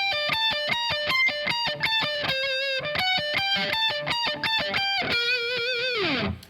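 Distorted electric guitar plays a fast neoclassical solo built on pedal tones, with rapid repeated notes in steady rhythm that end in a descending slide, loud and up close with no talking.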